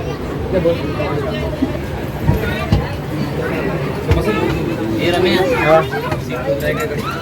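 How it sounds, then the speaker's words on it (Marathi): Dense crowd babble from many people fills a busy Dadar station platform as the Mandovi Express arrives during the Ganpati festival rush, with a low mechanical rumble underneath and occasional louder voices. "बापरे गर्दी आहे जाम"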